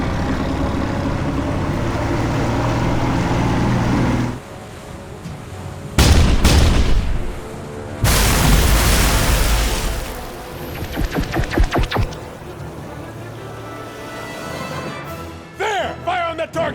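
Heavy naval gunfire from a battleship's forward 5-inch guns in a space battle against an alien armada: loud booming blasts in bursts, with a sustained roar between shots and rumbling explosions trailing off.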